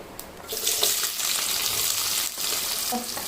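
Loud crackling sizzle of onions, green chilies, coriander and curry leaves frying in hot oil, a dense hissing spatter that swells as ingredients hit the pan, with faint clinks.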